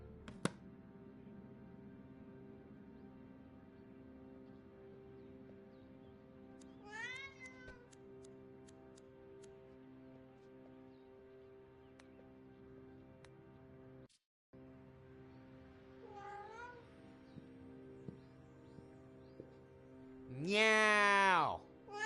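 A cat meows several times in the Alfred Hitchcock Vertigo game on PS4, with short rising-and-falling cries spaced apart and a louder, drawn-out meow near the end, all over a steady low ambient hum.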